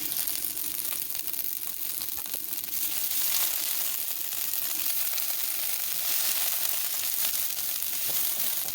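Garlic paste and ginger paste frying in a hot pan, a steady loud sizzle and crackle that holds without a break throughout, with no talking.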